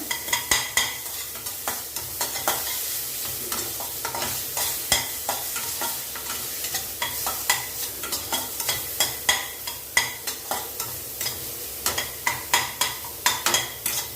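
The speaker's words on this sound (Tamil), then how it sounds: "இதில் எடுத்து வச்ச பேரிக்காயை போட்டுக்கலாம் லேசாக வதக்கினா போதும்" Pear pieces tossed with onions in a hot pan, a steady frying sizzle broken by frequent scraping stirs in an irregular rhythm, close and moderately loud with no voices.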